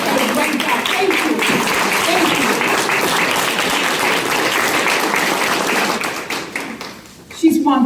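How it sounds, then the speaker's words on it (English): An audience at a domestic violence awareness event gives sustained, even applause for about seven seconds, fading near the end as a voice begins to speak. "Can we give a hand clap and finish?"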